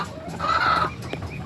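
Young ready-to-lay chickens, about 16 weeks old, cluck in a coop. One bird gives a short, bright call that is close and moderately loud over a soft background of the flock.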